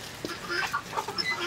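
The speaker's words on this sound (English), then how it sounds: "That rooster right there is my favorite." Rooster clucking in a chicken yard during a strong wind storm, a string of short, moderately loud clucks over steady gusty background noise.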